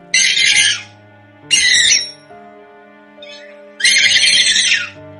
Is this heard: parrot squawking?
yes